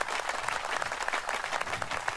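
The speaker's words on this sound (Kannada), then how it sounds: "ಮತ್ತೊಂದು ಸರ್ತಿ ಅವರಿಗೆ ಜೋರಾದ ಚಪ್ಪಾಳೆ" Applause from an audience for a singer after her song, a steady dense patter of many hands clapping continuously throughout, with no talking over it.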